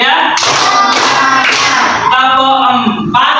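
Children clap their hands in a classroom in quick rhythmic bursts, loud and close, alternating with a voice giving the count.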